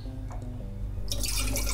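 Coconut water is poured into a glass: a few quiet drips first, then a bright, close splashing pour, with no voices.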